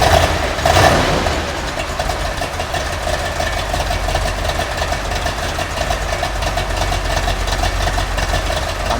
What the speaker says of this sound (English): listen to that solid lifter, 454 LS6. Entirely different sound than the 350.